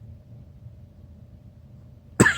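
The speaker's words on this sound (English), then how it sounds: "My cough is back." After a quiet low hum, a single sharp, close cough bursts out near the end.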